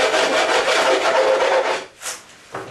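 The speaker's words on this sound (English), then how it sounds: "if you want to rasp off the edge, you can" A small hand rasp scrapes along the edge of a wooden cabinet shelf in one sustained, close, gritty stroke, followed by two brief lighter scrapes.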